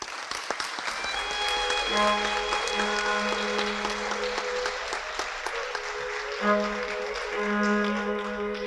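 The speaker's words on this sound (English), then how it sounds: "please join me once again in applauding all of our new Honor Society members" An audience claps steadily for new members at a high school National Honor Society induction ceremony. The dense, sustained applause runs the whole way through with sustained tones underneath.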